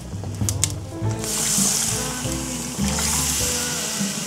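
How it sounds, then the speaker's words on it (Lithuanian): Broth poured into a kazan holding pork knuckle on a Kamado Bono grill, a close gurgling pour swelling in two long surges, with a few faint clinks and a low hum beneath. "Toliau sultinį supilam."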